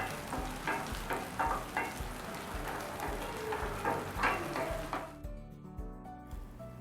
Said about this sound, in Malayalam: നേരത്തെ അരിഞ്ഞു വെച്ചിട്ടുള്ള വഴുതനങ്ങ കൂടി ചേർത്ത് നല്ലതുപോലെ വഴറ്റിയെടുക്കുക